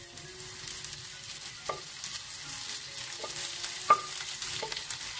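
Tomatoes and green chillies fry over ginger-garlic paste in a pan on a Goan kitchen stove, a steady soft sizzle with a few sharper clicks of stirring, close and fairly quiet, with no one talking.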